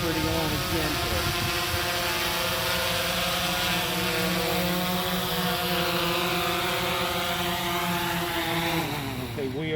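A DJI Phantom 4 Pro V2 drone hovers low for a precision landing in an open field, its rotors giving a loud, steady buzzing whine whose pitch shifts and drops near the end.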